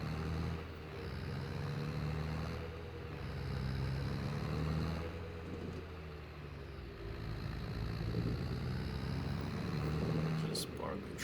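A tractor engine in the farming game Farming Simulator 22 drones steadily at a low pitch, swelling and easing slightly as it drives, with a faint click near the end.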